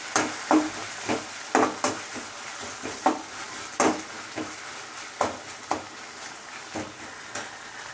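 Beetroot paste being stirred in a pan, with a spoon knocking and scraping against the metal in irregular strikes, close and fairly quiet, with no voices.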